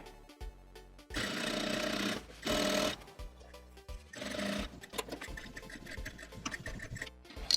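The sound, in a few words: sewing machine stitching a seam on tapered jeans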